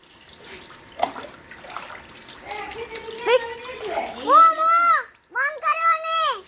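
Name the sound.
water being poured and splashing during a child's bath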